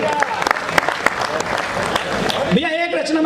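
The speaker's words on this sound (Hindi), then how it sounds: "एक बार जोरदार तालियां बजाओ" Applause from an audience at a Hindi poetry recital, a brief burst of crisp clapping under a voice that speaks over it before the clapping fades.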